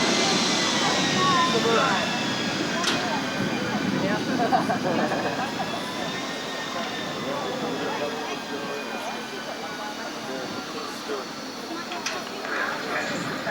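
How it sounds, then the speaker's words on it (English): Continuous roar of a Harrier jet moving along the ground at a 1988 Biggin Hill airshow, steady and fairly loud throughout with broad engine rumble and whine, with crowd noise in the background. "Harrier on the move."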